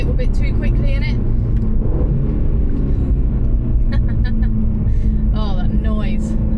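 An Aston Martin DB12 on the road gives a deep, steady engine rumble with rising revs, close and loud throughout, while a person talks excitedly over it.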